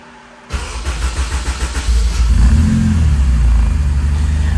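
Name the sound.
Honda Type R car engine starting and revving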